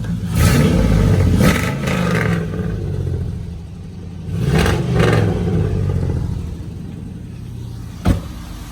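LS-swapped 1996 Chevrolet Caprice with a stock cam idling in a steady, loud low rumble, with a couple of brief swells and a sharp click near the end.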